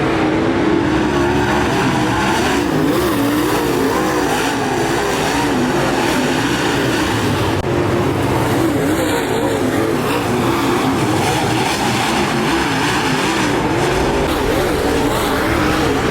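Race cars roar down the back straightaway of an oval track, a loud, sustained engine drone that fills the whole stretch without a break.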